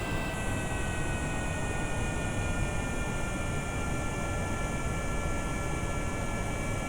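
Steady, droning jet engine roar from a Boeing 747 in Kerbal Space Program as the throttle is cut on approach, a constant hum with faint tonal whine and no speech.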